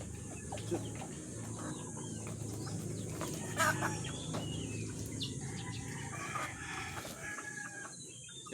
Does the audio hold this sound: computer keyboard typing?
no